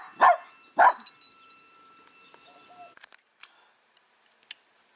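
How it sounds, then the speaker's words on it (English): Two sharp, loud dog barks in quick succession close by, followed by quiet scattered clicks and faint background sounds. "What you barking about?"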